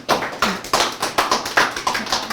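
Audience clapping in an art museum gallery to welcome an exhibition co-organiser, a close, fairly loud run of individual sharp claps in a steady, slightly uneven rhythm.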